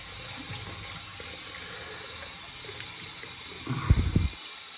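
Water runs in a bathroom sink while shaving stubble is rinsed away, a soft continuous hiss that ends in a short louder gurgling splash.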